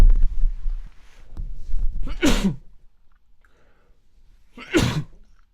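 Two sharp sneezes, the first about two seconds in after some low background murmur, the second a few seconds later, both close and loud.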